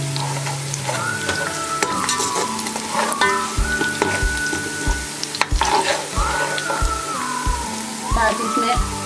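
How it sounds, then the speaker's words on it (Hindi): Whole garam masala frying with lightly browned onions in a pot for Sindhi chicken biryani with potatoes: a steady loud sizzle with rhythmic stirring scrapes, while a voice talks over it. "अब ये हल्के हल्के से हुए हैं प्याज, इसमें हम साबुत गरम मसाला डालेंगे"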